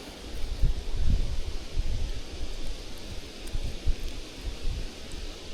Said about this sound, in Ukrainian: Сильний дуже вітер.